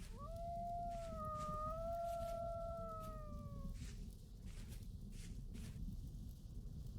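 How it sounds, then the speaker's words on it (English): A wolf howls in a video game at night, one long clear rising and falling cry lasting several seconds over a steady low ambient rumble, then fading into faint game sounds. "It's dark, I hear howling"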